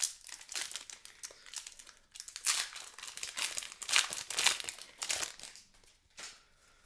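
Crinkly foil wrapper of a Time Spiral Remastered trading card booster pack being torn and crumpled open, a steady run of close, bright rustling and crackling with short pauses, no voices.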